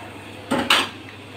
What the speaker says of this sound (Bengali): মাংসটা একটু ভালো করে একটু নেড়ে চেড়ে সব মশলা একসাথে করে মিশিয়ে দিচ্ছি।